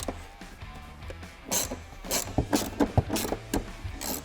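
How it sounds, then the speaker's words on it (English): Seat mounting bolts on a car being retorqued during a Paragon C8 lap belt install, heard as a series of short ratcheting clicks and mechanical clacks, close and moderately loud, with no talking. "And then we just retorque these bolts up front."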